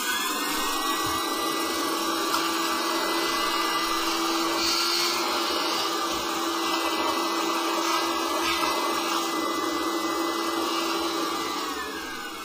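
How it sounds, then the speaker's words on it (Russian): A vacuum cleaner runs steadily and loudly throughout, a constant droning whine with no pauses, winding down slightly at the very end. "Хороший пылесос."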